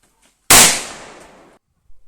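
A palm-leaf firecracker bursts once with a sharp, loud bang, followed by a long decaying echo and a faint thump afterward, outdoors and alone.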